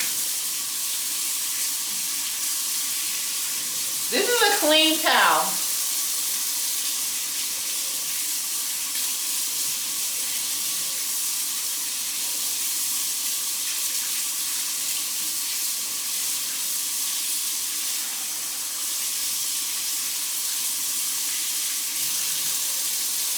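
Water splashes briefly from a household tap onto a towel to warm it. The gush is short and close, against a steady hiss of background noise, and a person speaks briefly.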